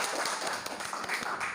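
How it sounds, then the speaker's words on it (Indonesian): An audience gives a short burst of applause after a guest on an Indonesian podcast about the teacher's role in shaping students' character, heard faintly and briefly. "kita kasih tepuk tangan dulu buat Yusma"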